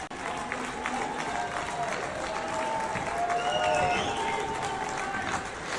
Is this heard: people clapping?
yes